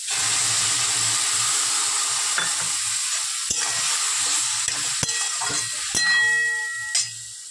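A sour curry is stirred in a hot pan before mustard water goes in: a continuous sizzle and frying hiss under scraping strokes, with a few sharp metallic clinks of the utensil against the pan near the end.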